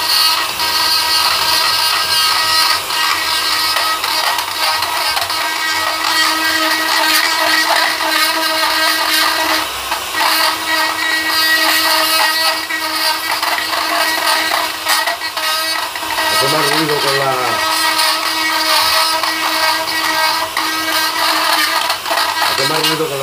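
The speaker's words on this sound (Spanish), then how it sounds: "Hace más ruido con la broca que con la fresa" A rotary power tool fitted with a toothed bit carves dead wild olive wood, giving a loud, steady high-pitched whine that runs throughout, with a brief dip and pitch sweep near the end.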